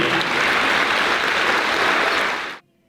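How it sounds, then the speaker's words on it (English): Audience applause in a large gathering, a dense, loud wash of clapping that holds steady and then cuts off abruptly near the end. "give him a little round of applause here"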